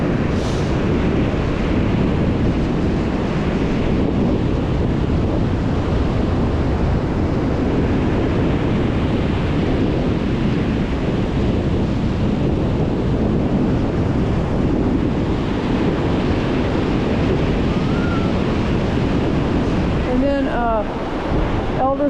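Strong wind blowing outdoors at an evening sunset near large fires, a loud, constant roar buffeting the microphone throughout, with a few faint higher calls near the end.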